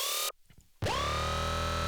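Tearout gun bass patch from Serum with post-processing switched off: a brief tonal hit, a sparse quiet gap, then a loud, dense, buzzing sustained note that swoops down and holds, dry and alone.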